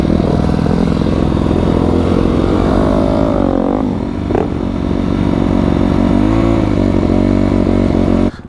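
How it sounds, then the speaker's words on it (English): A crash-damaged motorcycle engine runs loud and close, its throttle worked through rising and falling revs with a rough, clattering edge, then cuts off abruptly at the end. "Doesn't it just sound like I'm ripping on this throttle?"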